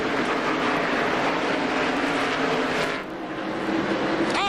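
NASCAR Winston Cup stock cars race at Bristol Motor Speedway in the 2001 Sharpie 500, a steady, loud engine roar that dips briefly and then swells back as cars pass close by.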